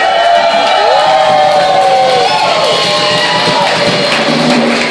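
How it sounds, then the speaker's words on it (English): An audience at a 50/50 drawing cheers and applauds a donor: a loud, steady crowd roar with whoops and shouts running throughout. "Everybody give her a hand."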